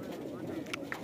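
A pigeon coos close by, a soft low burbling call set against steady outdoor background noise, with a person talking over it.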